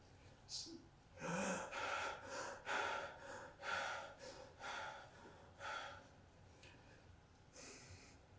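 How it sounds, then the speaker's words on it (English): Sharp, forceful breaths from a qigong exercise for the lungs repeat in a rapid series of gasping inhales and exhales, close to the microphone, then slow and fade toward the end. "breathing like that."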